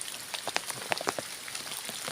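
Rain falls on a sugarcane farm in Suphan Buri, a soft, quiet patter of scattered drops tapping leaves and surfaces in an irregular rhythm, faint and alone.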